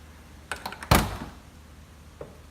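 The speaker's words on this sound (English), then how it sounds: "again, the door opens, does not drop. It is not dragging on the door sill at all. Nice, easy close." The driver's door of a modified 1965 Mustang Fastback is opened and shut: a faint latch click, then one solid close thunk, followed by a soft trailing knock, close and otherwise quiet.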